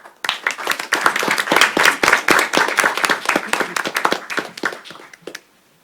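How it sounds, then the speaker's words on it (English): Applause at a town council meeting honoring an award recipient, a burst of close, lively clapping from a small audience that holds steady for several seconds and then quickly dies away. "Let's give a round of applause for Ms."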